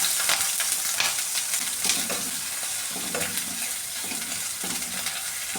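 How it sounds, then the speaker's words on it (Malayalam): Mustard seeds, ginger, garlic and green chili frying in coconut oil, a bright, steady sizzle with repeated scraping stirs of a spoon against the pan, heard close and alone. "ഈ ഇഞ്ചിയും വെളുത്തുള്ളിയും പച്ചമുളകും കൂടെ ഇട്ട് കൊടുക്കുകയാണ്"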